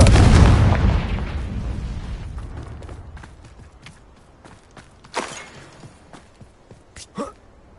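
A spell explosion in the Hogwarts Legacy video game opens with a loud, dense blast that rumbles and decays over about two seconds, followed by scattered debris clatter and a few sharp cracks.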